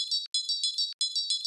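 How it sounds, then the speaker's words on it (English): A melody in FL Studio transposed two octaves up, a thin, high, bell-like synth line of quick repeated notes with brief gaps, clear and alone. "Now transpose the melody 24 semitones up."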